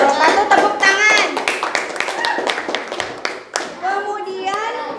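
A grade 7 classroom claps after a group presentation: a quick spatter of hand claps mixed with loud children's chatter and voices close by.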